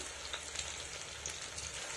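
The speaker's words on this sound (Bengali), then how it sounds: "পাকোড়াগুলো ভাজার সময়" Egg and potato pakoras frying in hot white oil in a kadai on a gas stove, a soft steady sizzle with faint crackles throughout, fairly quiet and alone.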